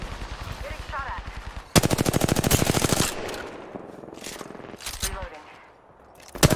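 Automatic gunfire in the video game Apex Legends, heard as a loud, dense burst of rapid shots with scattered shorter bursts and impacts around it, and brief voice lines mixed in.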